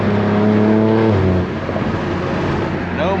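A BMW G80 M3 with a full titanium exhaust and catless downpipes roars loudly, holding a droning pitch before dropping into a harsh, crackling burble, then revving back up.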